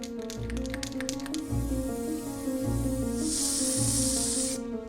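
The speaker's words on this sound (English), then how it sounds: "Turner would have carefully applied his final varnish with a brush, but Antonia gambled on a modern spray" A steady hiss of aerosol varnish spray on a painting starts midway and holds for over a second, over a constant low hum and faint thumping in the background.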